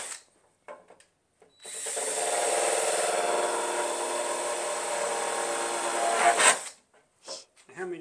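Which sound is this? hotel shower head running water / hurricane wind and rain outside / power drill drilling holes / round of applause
power drill drilling holes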